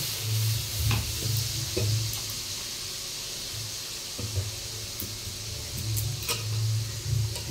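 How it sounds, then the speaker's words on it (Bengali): Tomato frying in hot oil in a pot, with a continuous sizzle broken by repeated scraping strokes of a spoon stirring, close and alone. "তেলটার মধ্যে একটু টমেটোটা কষে নেব"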